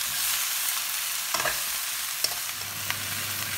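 Food fries with soy sauce in a hot pan, giving a steady bright sizzle with a few soft scraping stirs and clinks, close by and without talk.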